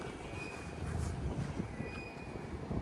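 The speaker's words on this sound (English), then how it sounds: "as the monorail goes overhead here" A Disney monorail rumbles past overhead along the walk from the Polynesian resort to Magic Kingdom, a steady rolling drone with a faint high wheel whine, heard alone at moderate distance.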